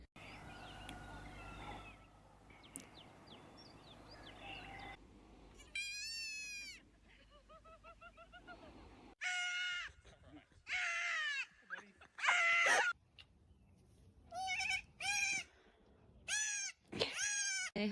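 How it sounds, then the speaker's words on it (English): A baby goat, about a week old, bleats repeatedly in short wavering cries, loud and close, with quiet gaps between calls and people talking in the opening seconds. "literally the chillest baby goat"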